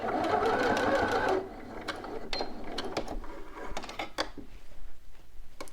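A home sewing machine backstitches a bodice seam on a McCall's 7908 garment, whirring steadily and loudly for over a second before stopping, followed by soft clicks and handling of fabric.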